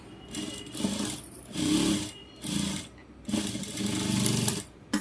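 A sewing machine runs in several bursts, whirring steadily between brief stops as it stitches a blouse hem, loud and close with no talk over it.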